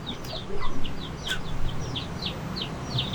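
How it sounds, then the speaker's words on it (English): Chicks of the Vietnamese Ga Noi breed give rapid, high, repeated peeps close by, with occasional soft clucks from adult chickens and faint outdoor background noise. "The chicks can roam anywhere."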